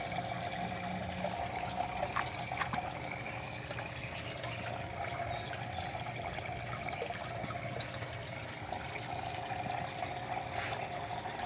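Water draining steadily through a homemade DIY filtration setup, a faint continuous trickle and gurgle with no talk.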